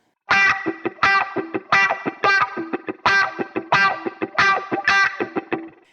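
Funky electric guitar chops with a wah pedal sweeping each strum, rhythmic repeated octave stabs with muted scratches in between, loud and close.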